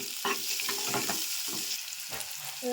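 Onions fry in a pan with a steady, close sizzle, and a spatula stirs them in repeated scraping bursts.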